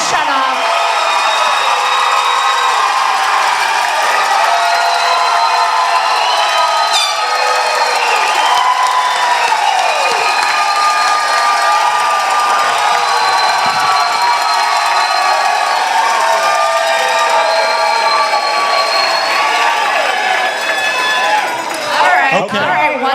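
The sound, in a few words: audience cheering and applauding for Bryson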